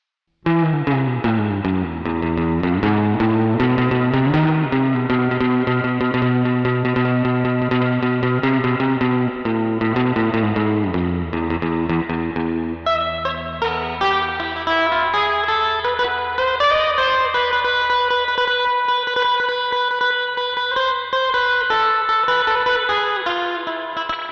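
Surf-rock electric guitar runs through a real spring reverb tank pedal into a Fender-style amp emulator, playing a continuous, loud, drenched melody with chorus-like shimmer for about twenty-four seconds, with no talking.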